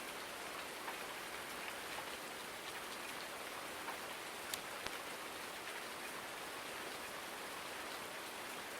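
Steady rain hisses on surfaces on a farm in Farming Simulator 19, a dense, even wash of drops at low volume with no talk.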